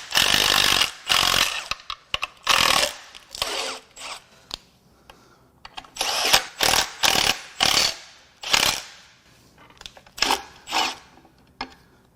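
Ratcheting wrench tightening threaded bosses on a 2018 Chevrolet Equinox 1.6L LH7 diesel engine during teardown: repeated bursts of close, sharp clicking ratchet strokes separated by short pauses, with no talking.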